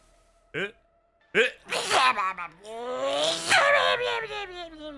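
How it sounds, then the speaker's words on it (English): A sharp sneeze bursts out, then a second, followed by strained vocal sounds and a voice carrying on loudly. "Sorry, I had to sneeze."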